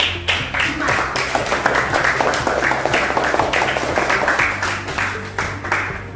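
Classroom applause for group 4: a crowd of students clapping briskly and steadily for several seconds, close and fairly loud, with voices mixed in.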